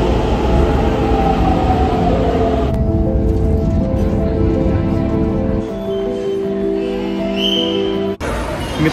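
Pune Metro train heard from inside the coach, a loud continuous rumble and electric whine with steady tones that shifts as the train slows, close and dominant throughout.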